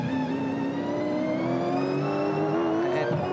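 Supercars race cars roar past on the Townsville street circuit during a 2021 race, a loud continuous engine howl with rising and falling pitch as cars pass close by, no talk.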